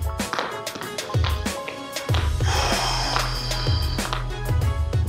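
Heavy breathing during a seniors' aerobics workout, sharp audible exhales and breaths in a steady rhythm alongside thumping footsteps from marching in place and background music.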